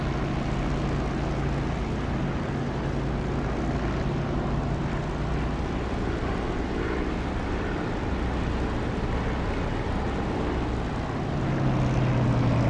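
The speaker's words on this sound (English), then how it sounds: "Just revving up a little bit in case I need to clean my spark plugs." A piston aircraft engine in the DCS flight simulator revs up after sitting idle, a continuous droning propeller hum with a steady low tone that rises slightly near the end.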